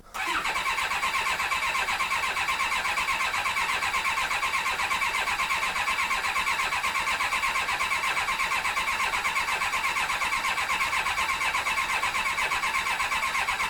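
Rebuilt Kawasaki ZX7R motorcycle engine cranking on the starter for the first time, a loud, steady, fast-pulsing whir that runs unbroken for about thirteen seconds with no talking.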